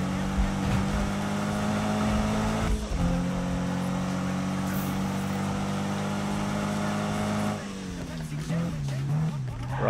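A sports car accelerating in the 2016 PC racing game Need for Speed, its engine holding a loud, steady tone, dropping briefly, then climbing again with rising pitch near the end.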